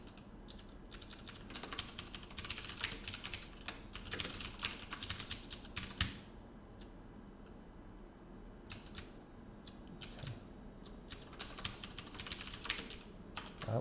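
Quiet computer keyboard typing comes in fast bursts of close, crisp key clicks, a short lull, then more scattered clacking, with no voices.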